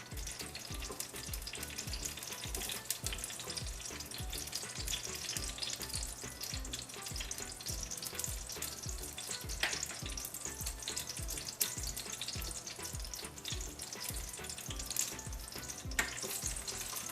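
Garlic cloves and red pepper fry in oil in a pan for a South Indian tomato chutney, giving a loud, continuous sizzle with stirring scrapes and occasional sharper pops.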